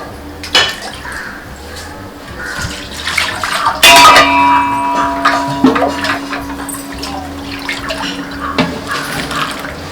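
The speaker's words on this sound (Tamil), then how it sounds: "கொஞ்சம் மேலே தண்ணி ஊற்றணும்." Water poured over food in a large pot while cooking in bulk at home, with metal vessels clanking and scraping, a ringing knock near the middle, and a running liquid splash underneath.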